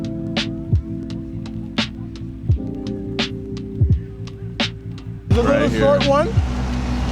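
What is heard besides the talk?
Mazda car engine revving out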